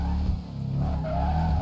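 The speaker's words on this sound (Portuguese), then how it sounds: "Vou mandar o drift aqui, ó." Tires squeal loudly and continuously as a Nissan Skyline drifts in GTA V, a sustained screech over steady engine roar filling the whole moment with no talk.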